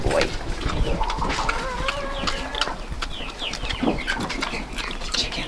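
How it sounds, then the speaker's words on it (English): Chickens cluck in short, scattered calls inside a barn, moderately close, over steady background noise and rustling from farm chores. "Chickens are in the food over here."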